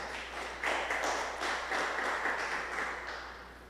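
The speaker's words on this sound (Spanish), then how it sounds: "Dale un aplauso al Señor en tu casa." A congregation applauding during a Spanish-language church sermon: a continuous, moderately loud patter of many hands clapping that swells and gently fades, heard alone without speech.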